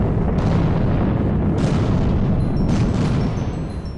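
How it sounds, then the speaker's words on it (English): A mothership explodes in a video game: a loud, sustained blast of broadband rumbling and crackle that carries steadily for about three seconds before easing off near the end, with no talking. "Fawful hit the mothership. An explosion is taking out all the glitches."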